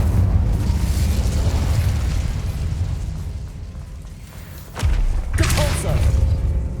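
In Hogwarts Legacy, an Incendio fire spell gives a loud, close burst and whoosh of flame over a continuous deep rumbling game soundscape, with a second sharp flare near the end.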